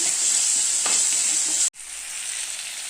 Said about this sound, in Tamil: நல்லா வெங்காயம் இந்த மாதிரி நல்லா வதக்கிக்கங்க